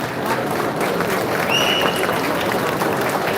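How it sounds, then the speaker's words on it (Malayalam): Audience applause at the ARM film launch event, a steady dense wash of clapping from a large crowd filling the whole stretch at even loudness, with a faint murmur beneath. "അതിലും ഒരു വലിയ കയ്യടി നിങ്ങൾ പ്ലീസ്"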